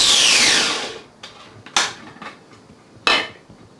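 Fresh ginger being ground down to release its juice for a stir fry: a long scraping, grating rasp up front, then several sharp knocks and clatters of a tool against the bowl, close and alone.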